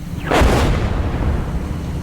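Artillery fire in the PC tank simulator Gunner, HEAT, PC, heard from a T-64B: one heavy, distant boom with a deep rumbling tail that lingers under steady low engine drone.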